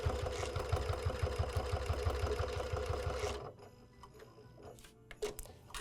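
A sewing machine stitches layered fabric for a holiday gift bow, running in a steady rapid rhythm for about three seconds before stopping, followed by faint handling clicks and rustles.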